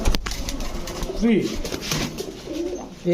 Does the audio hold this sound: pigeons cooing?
yes